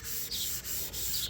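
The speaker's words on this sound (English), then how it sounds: "Most of this I did hand sanding." Spot putty on car bodywork is hand sanded with fine-grit paper in steady back-and-forth strokes, a close, rhythmic rasping hiss repeating about every third of a second with no voices.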